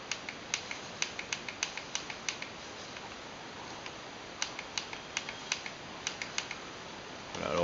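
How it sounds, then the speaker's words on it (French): Sharp plastic clicks from Xbox 360 controller triggers during game play on a Dell XPS 15 laptop, coming in quick irregular bursts and clusters at close range over a quiet background. "le bruit que vous entendez, c'est le bruit des gâchettes"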